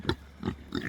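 Piglets grunting in short bursts, three quick close grunts spaced across a brief moment, fairly loud with no talking over them.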